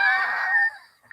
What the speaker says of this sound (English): I didn't want to scream too loud into the microphone.